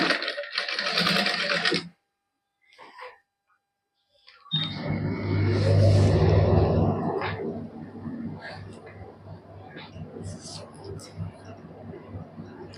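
Close whirring burst of a sewing machine stitching lace onto a garment neckline, preceded by short pauses and soft handling noises, then fading into quieter fabric rustle.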